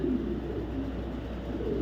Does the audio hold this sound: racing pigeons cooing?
yes